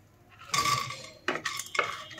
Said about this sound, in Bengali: বড়ি দিয়ে একটু ভালো করে নাড়াচাড়া করে নেওয়া হচ্ছে